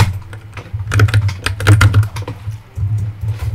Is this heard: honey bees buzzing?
no